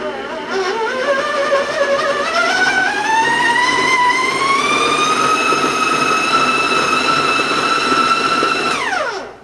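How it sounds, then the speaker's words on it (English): A stand mixer beats cookie dough, its motor whine rising steadily in pitch as the speed is turned up, then holding loud and constant before winding down at the end; no talking. "you can kind of start to hear that the mixer is lagging a little bit, so it does need to go higher"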